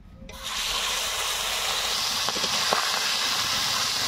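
Magur catfish dropped into hot oil already crackling with whole spices, bursting into a loud, steady sizzle and hiss that swells within the first half second and holds close and dense to the end, with a few sharp pops.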